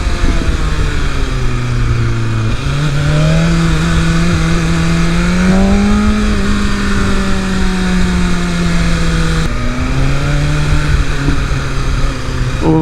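A 2023 BMW S 1000 RR motorcycle ridden on the street, its engine droning loud and close with rising and falling revs through gear changes and steady wind rush.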